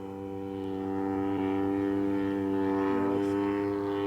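The engine of a giant Top Flite P-40 model airplane drones steadily with strong harmonic tones, its pitch shifting slightly as it runs rich, moderately loud and continuous with no talk.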